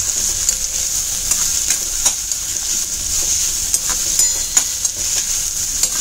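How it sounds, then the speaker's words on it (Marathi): Onion, curry leaves and green chillies fry in oil for a Malvani prawn dish, giving a steady close sizzle with scattered stirring clicks and scrapes of a spoon against the pan, with no talking. "कांदा, कढीपत्ता, हिरव्या मिरच्या छान परतवून घ्यायचं."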